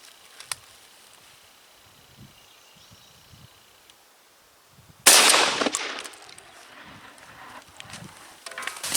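A shotgun fires heavy steel number 4 shot through a High Voltage .690 choke tube, one sharp, loud blast after quiet outdoor rustling, followed by a decaying echo and shuffling handling noise.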